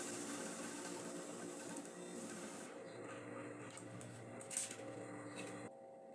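Sewing machine stitching a hem on ribbed baby leggings with elastic, a steady mechanical whir running continuously at close range, then pausing briefly near the end before resuming; no talking.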